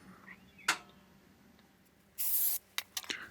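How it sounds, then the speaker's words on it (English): Penetrating oil sprays onto the center hub of a 2002–2008 Toyota Corolla front wheel during a brake and rotor job: a short, loud hiss of aerosol, followed by a few brief spritzes, with a faint click before. "You can also use a little bit of penetrating oil on the hub in the center."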